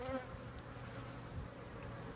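Honey bees buzzing steadily on an end frame of honey from a farm beehive, a close, continuous drone with no talk.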